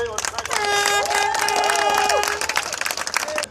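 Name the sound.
applause for a racer at the Bielefeld finale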